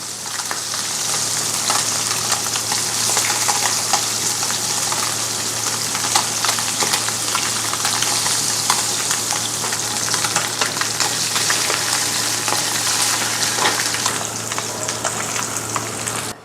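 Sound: puti fish frying in a pan

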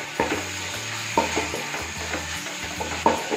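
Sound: stirring ginger-garlic paste in a frying pan

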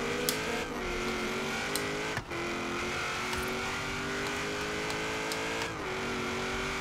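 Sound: car engine revving through gears in racing video game

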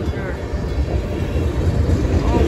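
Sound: CSX tier 4 locomotive train passing

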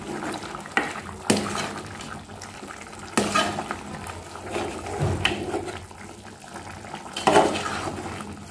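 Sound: stirring meat curry with bay leaves and garam masala in pot

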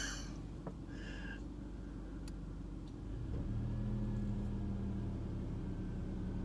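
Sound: car pulling in to park nearby

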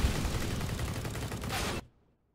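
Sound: gunshot in video game CS:GO

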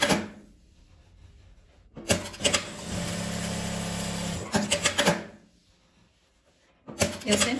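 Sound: sewing machine stitching fabric scraps diagonally

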